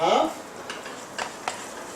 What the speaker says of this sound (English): Start stirring that up.